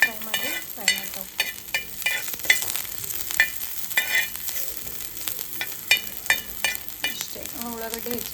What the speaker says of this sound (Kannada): ಇದು ಎಣ್ಣೆಗೆ ಫ್ರೈ ಮಾಡ್ಕೋಬೇಕು.